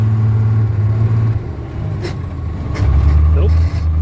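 A DT466-powered International dump truck engine revs under throttle with a deep diesel roar that swells and eases, surging louder toward the end, while a man calls out instructions over it.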